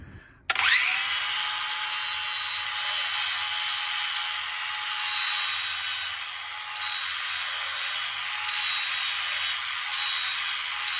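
Power tool grinding steadily against a metal edge on an RC trailer being rebuilt, starting abruptly and running loud and continuous with slight rises and dips in pitch.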